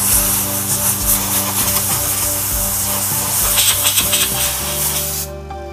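A loud, steady hiss of compressed air blasting cracks clean in a wooden shaving brush on a wood lathe, close up, with faint tapping and rubbing underneath, then cutting off abruptly near the end.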